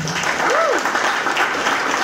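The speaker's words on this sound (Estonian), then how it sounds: "Teeme talle suure aplausi." An audience claps for an award nominee at a Father of the Year ceremony, loud dense applause filling the whole moment, with a brief tonal sweep over it.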